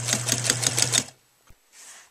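Sewing machine stitching a liner onto suede, a rapid close rhythmic clatter for about a second, then near silence with a faint click and soft rustle.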